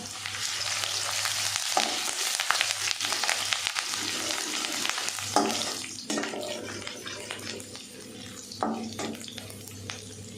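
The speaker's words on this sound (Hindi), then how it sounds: "अब मैं इसमें बारीक कटी हुई ये हरी मिर्च डाल दूँगी।" Finely chopped green chillies frying with sautéed garlic in a pan for chicken fried rice, a continuous bright sizzle with occasional stirring scrapes and clatters, close and steady without talking.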